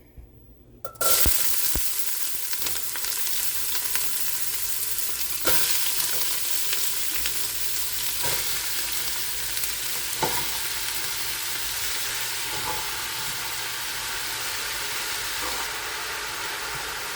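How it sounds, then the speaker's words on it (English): Onions, celery and zucchini sizzle steadily in hot oil in a soup pot, a loud continuous frying hiss after an initial drop-in, with occasional stirring clatters throughout. "you're going to throw them in the pot to start getting them sauteed"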